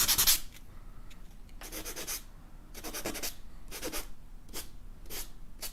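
Sandpaper rubs across a pencil drawing in a series of soft, close, rasping strokes, each a brief scratchy swish separated by short quiet gaps.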